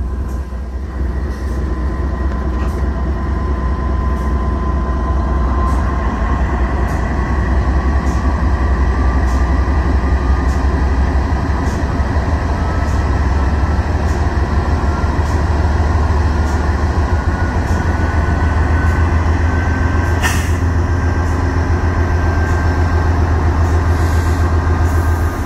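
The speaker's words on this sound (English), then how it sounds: "That sand train." Loud, sustained rumble of a freight sand train rolling by, wheels clacking rhythmically over the track, with a faint squeal of metal partway through.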